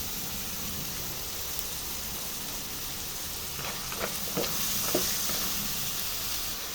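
Samgyupsal liempo pork belly and mixed vegetables fry in a pan with a steady, moderate sizzle and hiss, broken by a few light clinks and stirring taps near the end.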